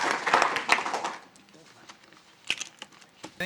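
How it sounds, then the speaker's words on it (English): Applause from a conference audience rises in a dense burst of clapping, then thins to scattered individual claps and faint murmurs as it dies away. "let's give them a round of applause"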